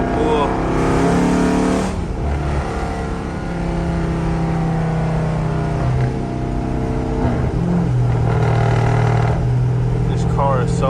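A Gen 2 Dodge Charger with a swapped 392 engine roars loudly from inside the cabin at night, a deep rumbling drone that surges and eases as it accelerates, with voices talking over it.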